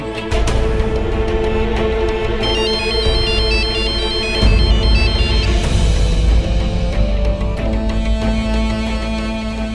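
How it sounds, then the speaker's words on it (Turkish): A mobile phone rings loudly and alone with a bright, repeating melodic ringtone that carries on steadily without pause. "Şekar, Ragin'in telefonu burada"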